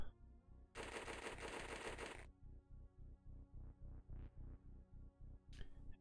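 Rapid repeated gunfire in the turn-based strategy game OpenXcom, a fast rhythmic burst of many evenly spaced shots with a brief louder noisy blast near the start, fairly close and clear without talk.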